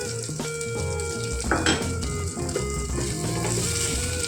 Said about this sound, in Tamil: தக்காளி நல்லா வெங்காயத்தோடு சேர்ந்து நல்லா வதங்கலாம்